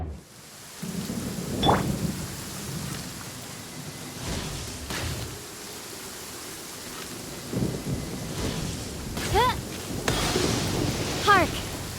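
Thunder rumbles over steady rain in Genshin Impact, with several low booming rolls rising and fading across the stretch amid a constant wash of rainfall.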